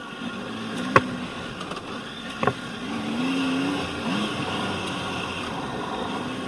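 A Triumph Tiger 800 motorcycle engine chugs along in second gear off-road, a low steady putting drone with a couple of sharp knocks over it, recorded close.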